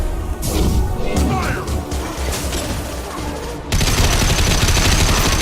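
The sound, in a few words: gunfire in the video game Mass Effect 2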